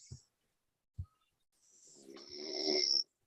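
A man snores loudly and close by, a short snort, then another after a pause, followed by a long rasping snore that swells and cuts off, with no talk.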